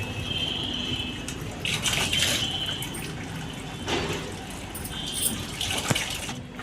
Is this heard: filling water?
yes